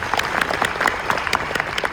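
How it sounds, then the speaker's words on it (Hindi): An indoor audience at a coaching-class talk in Raipur claps together in quick, rhythmic bursts, fairly close and lively, with no talking over it. "इनके लिए एक ताली होनी चाहिए।"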